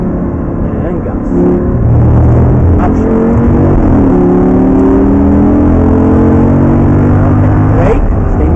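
An Audi R8 accelerating on a racing track, a loud sustained engine roar with rising and falling pitch as it revs through gears, close and continuous, with a voice talking over it.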